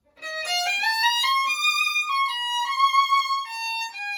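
A violin plays a smooth rising scale on one continuous up-bow, with a quick slide up into third position partway through before the line settles and steps back down, bright and sustained with no talking.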